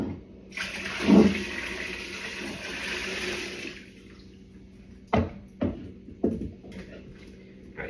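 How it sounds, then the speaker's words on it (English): Water poured out of a cooking pot in a home kitchen, a steady rushing splash for about three seconds, then a few sharp clanks and knocks as the pot is handled, with no talking. "Let me pour this water out."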